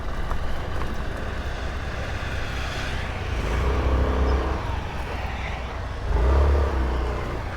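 A car drives fast along a dirt road in eastern Turkey at about 50 km/h, with a steady engine drone and tyre rumble. The sound swells twice in revving surges.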